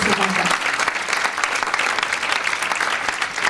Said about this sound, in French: Applaudissez-la pour toutes les actions qu'elle fait pour ces enfants.